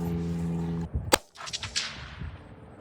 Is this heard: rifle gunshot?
yes